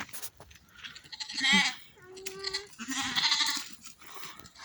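Two loud, wavering bleats up close from lambs grazing around a ewe, separated by a short pause, with a higher thin cry and some rustling between them.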